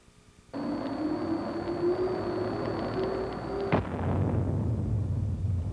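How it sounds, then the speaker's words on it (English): Ammunition in the hull section of an M1 Abrams tank test rig explodes, and its propellant burns off in a sustained roaring rush with a high whine, ending in a sharp loud crack followed by continuing rumbling burn. "The jet passed through two rounds, which caused a violent initial explosion."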